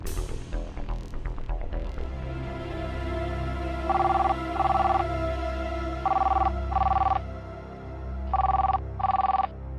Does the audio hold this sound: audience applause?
no